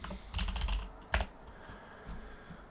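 Quick bursts of computer keyboard typing, a cluster of close keystrokes followed by a single sharper tap, then quieter scattered clicks in a calm room.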